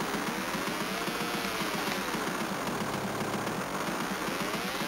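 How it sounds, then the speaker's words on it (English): Synthesized car engine noise from the Spy Hunter II arcade game, a harsh buzzing pulse repeating rapidly with warbling pitch sweeps, steady and fairly quiet throughout. "Horrible engine noise."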